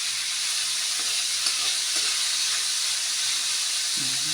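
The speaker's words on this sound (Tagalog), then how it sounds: "Prito-prito na natin." Squash frying in a small amount of cooking oil, a steady close sizzle and hiss running throughout with faint clinks of stirring.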